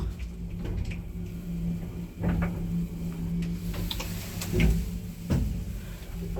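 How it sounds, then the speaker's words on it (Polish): Pre-war elevator with counterweight doors in a building on Waszyngtona 37 in Warsaw, running with a steady low hum and scattered mechanical ticks and clunks. "Dobra, jedziemy przedwojenną windą."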